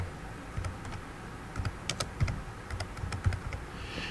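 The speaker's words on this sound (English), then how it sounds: "once I type in the name of my course" Keys clatter on a computer keyboard as a course name is typed, with irregular close taps in short bursts and brief pauses and no talk.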